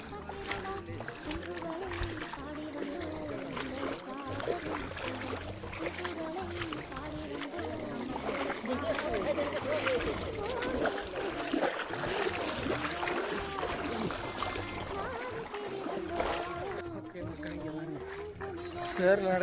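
Splashing and sloshing water from steps through shallow floodwater, with people talking throughout.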